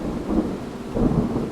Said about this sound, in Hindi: बारिश की आवाज पूरे स्टेशन पर गूंज रही थी।